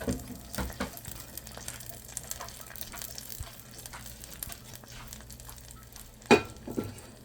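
Hot tempering poured into a lentil and green papaya curry, a brief loud sizzle burst near the end after quiet pan noise and soft stirring.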